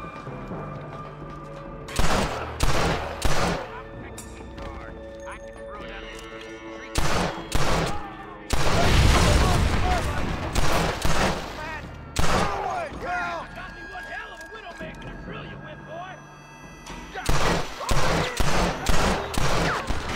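Rifle gunfire in the Western game Red Dead Redemption, with loud bursts of rapid shots arriving in clusters separated by pauses, including one heavy booming stretch, all close and punchy with game ambience between volleys.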